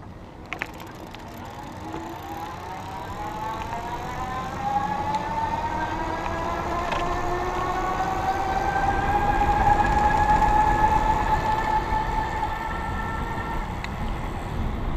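A geared hub motor on a 2014 EZ Pedaler T500 electric bike runs on throttle, a steady whine that rises in pitch as it speeds up and holds a sustained, fairly loud tone with no talk.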